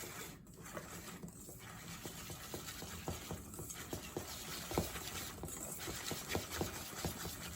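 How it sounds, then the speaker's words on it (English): Lemon juice and sugar glaze for a lemon bundt cake being whisked by hand in a bowl, faint quick ticking and tapping strokes repeating steadily. "You do not need mixer to whisk this, okay? It's very fast."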